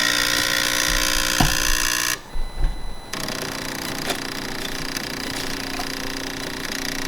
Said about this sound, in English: you will see the coffee come out of the front of the machine.